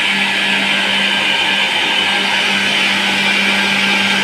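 Electric mixer grinder whirring as it grinds masala for egg masala, a loud, steady motor drone with a constant hum that runs unbroken the whole time with no talk.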